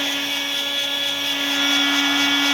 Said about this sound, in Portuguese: o soprador não pode ficar parado, nem ele estoura